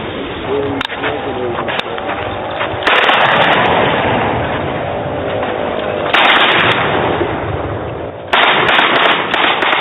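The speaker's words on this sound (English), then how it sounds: "The last shots of an ex-agitator about to drop his arms" An ex-militant in the Niger Delta fires his last gunshots before disarming, heard outdoors as a few loud, sharp bursts over constant noise and talking voices.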